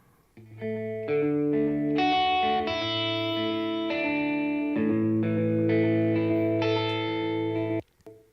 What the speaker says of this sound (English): just a quick repeat, almost like a slap delay or a simple delay